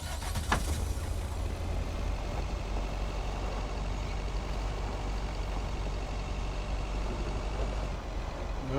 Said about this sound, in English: Now I hear the truck and everything, okay.